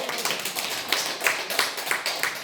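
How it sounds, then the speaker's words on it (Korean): A church congregation claps hands during a sermon, a fairly quiet run of distinct, evenly spaced claps heard at a moderate distance. "이 정도 되면 박수 한번"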